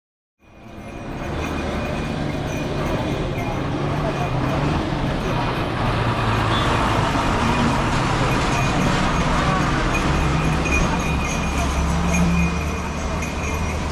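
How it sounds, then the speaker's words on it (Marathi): A Konkan Railway train passes on the Goa line as a loud, continuous, close rumble and roar that swells in quickly and stays heavy throughout, with no clear voices. "इथून रेल्वे जाते, कोकण रेल्वे गोवा।"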